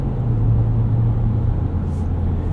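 A 2024 Ford Ranger Raptor engine pulling at full throttle gives off a steady, loud, droning rumble with a constant low hum. The sound holds without a break and no one speaks.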